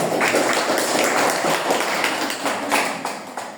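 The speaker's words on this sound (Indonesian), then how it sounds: "Oke, tepuk tangan untuk kelompok 2." A classroom of students claps for a student group during an elementary school teaching practice session on Indonesian language, giving quick, uneven clapping with scattered taps that tapers off after a few seconds.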